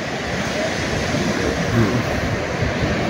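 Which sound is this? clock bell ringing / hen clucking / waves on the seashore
waves on the seashore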